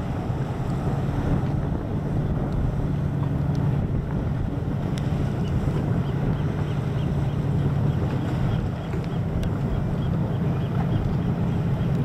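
A Cruisers Yachts 340 Express motorboat with twin 8.1 MerCruiser engines runs on open water, a steady low engine rumble mixed with wind rush and water noise, continuous and fairly loud.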